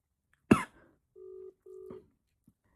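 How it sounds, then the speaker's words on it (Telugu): A single cough is followed by two steady ring-back tones of equal length from a phone placing an outgoing call. The pulses sound clear and close against near silence. "రింగ్ అవుతోంది ఫోన్ అయితే."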